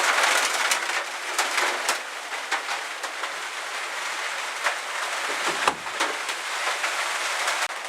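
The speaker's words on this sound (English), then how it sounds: "that noise you can hear is the rain on the tin roof" Steady patter of rain drumming on a metal roof, with sharper scattered drips and taps over a constant hiss.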